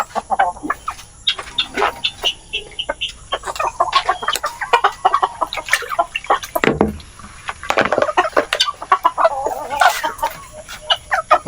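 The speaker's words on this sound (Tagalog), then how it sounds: "Magpapakain muna tayo ng ating mga alagang chicken duck." Several chickens cluck and squawk on a small farm at feeding time, with sharp close calls coming in rapid irregular bursts throughout, one louder low thump midway, and no talking.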